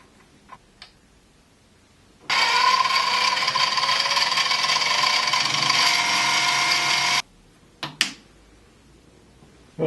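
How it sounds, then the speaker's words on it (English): Worn disc sander that is getting noisier, running for about five seconds as a loud, harsh, steady whine, with a few light wooden clicks and knocks before and after. "this disc sander is getting worse and worse"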